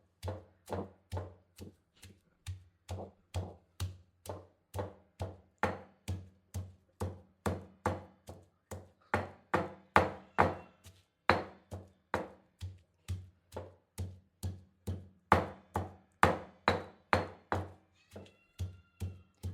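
Green chillies with salt pounded for Maharashtrian thecha in a mortar and pestle: a long run of steady rhythmic thuds, about two per second, close and dull.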